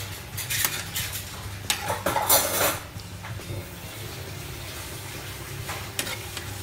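A utensil scrapes and clinks against a pot as pork liver is stirred while boiling, with a low hum and bubbling underneath; the metallic scraping comes in short bursts.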